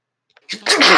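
A single sharp sneeze, close and loud, preceded by a brief intake of breath.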